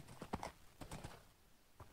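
Horse hooves clip-clopping in a video game as a horse is ridden, a few crisp hoof knocks in an uneven gait, fairly close but quiet, with no talking over them.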